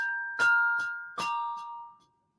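Bells sewn onto a costume ring out like a 1950s doorbell, two clear chimed strikes whose tones hang and slowly fade, followed by a couple of softer tinkles.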